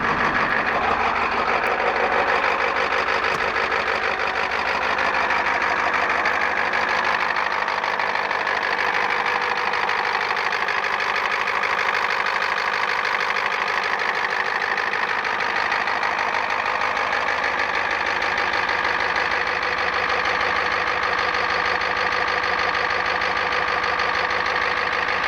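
A 1989 Ford F-350 with a 7.3L IDI diesel, aftermarket turbo and five-speed manual idles up close, a loud, steady, clattering diesel rumble that continues without a break.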